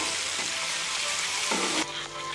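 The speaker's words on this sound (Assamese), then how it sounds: "এইখিনি ভালদৰে ভাজি লম।" Two cloves and two cardamom pods fry in hot oil in a pan for an egg chilli curry, giving a loud, steady sizzle with a brief stirring scrape near the end.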